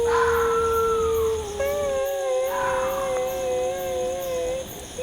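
A dog howling and crying at night, drawn-out mournful tonal wails that rise and fall over several seconds, loud and close, with a steady background hum.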